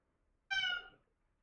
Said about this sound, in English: my cat is distracting me because he's like meowing for attention